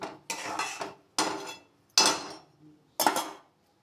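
Cabbage being stirred in a pan over a high gas flame, with a utensil scraping and clinking against the metal in four or five separate strokes, near and clear with no talk.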